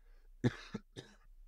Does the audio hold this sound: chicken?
no